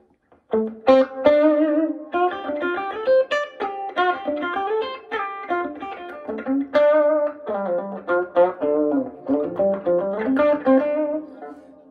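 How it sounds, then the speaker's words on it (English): A clean electric guitar through a solid-state amp picks a flowing melodic line of single notes and chords, each note trailing into a moderate reverb tail, played alone. "So let's just put on some reverb, maybe not so drenched like before."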